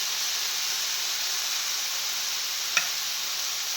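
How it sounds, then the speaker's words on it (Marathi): Leafy greens frying with dal in a pan, a continuous sizzling hiss throughout, broken by one brief sharp scrape or tap of the spoon near the end; no talking. "भाजीला चांगलं हलवून घेते."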